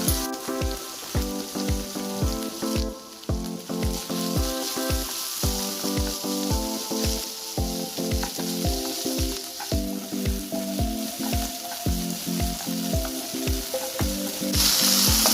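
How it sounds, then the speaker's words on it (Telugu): Okra fries in a pan with salt, a steady close sizzle that runs the whole time beneath a rhythmic background music beat. "ఇప్పుడు దీంట్లో కొంచెం సాల్ట్ని కూడా వేసుకొని ఫ్రై చేసుకుందాం."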